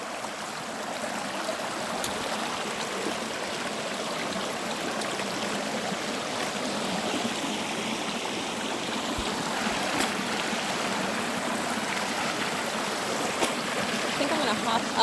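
A brook flows through woods in Northern Maine on a hot day, running alongside a road, with a steady, continuous rush of water at an even level throughout and no talking.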